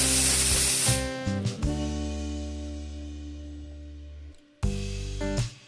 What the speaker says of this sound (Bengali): গ্যাসের ফ্লেমটা হাইতে করে একটা থেকে দুটো সিটি আমি দিয়ে নেব